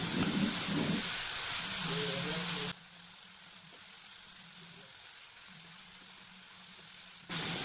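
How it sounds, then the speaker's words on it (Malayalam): Tomato chutney sizzling in a pan with Kashmiri chili powder as it is sautéed, a steady close hiss and frying crackle with a brief stirring scrape near the start. "ഇനി ഇതിൻ്റെ ആ പച്ചമണം മാറുന്നത് വരെ ഒരു 2 മിനിറ്റ് നേരം നന്നായിട്ടൊന്ന് വഴറ്റി കൊടുക്കാം"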